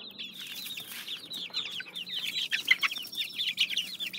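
Chickens in their outdoor run for the first time keep up a continuous chorus of soft, high clucks and chirps, close by and fairly quiet, with no talking.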